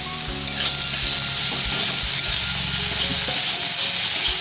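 Papad and rice frying in hot oil in a pan, a continuous close sizzle with low rhythmic thumps of stirring throughout.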